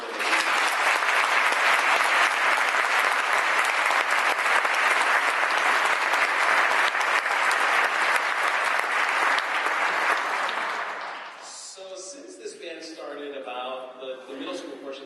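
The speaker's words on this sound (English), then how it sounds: "Would you please applaud them?" A school concert audience gives sustained, loud applause for a middle school band, a dense wash of clapping that holds steady for about ten seconds before fading out, after which voices talk in the hall.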